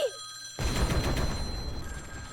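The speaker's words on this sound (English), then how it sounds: "All 8 phones buzzed alive in a relentless cacophony of sound." Many mobile phones in a visual novel video game ring and buzz at once after a brief opening tone, a loud, dense, continuous clamour that holds steady and slowly thins toward the end.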